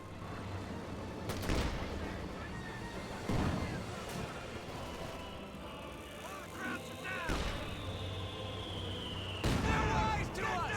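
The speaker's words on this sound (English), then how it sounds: "it's got major artillery there as well" Artillery fire in the real-time strategy game Company of Heroes 2: several heavy booming impacts and bursts of gunfire scattered across the battle, with whistling shells and rumbling explosions mixed under an excited commentator's talk.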